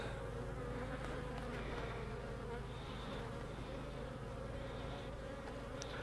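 Dense, steady buzzing of many aging honey bees close by in an open hive, a continuous droning hum that stays even throughout with no voices.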